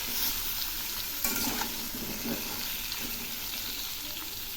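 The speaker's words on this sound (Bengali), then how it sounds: "এই কুমড়োগুলো খুব সুন্দর করে ভেজে নেব" Pumpkin pieces fry with salt and turmeric in a pan, giving a steady, close sizzle with soft stirring scrapes throughout and no voices.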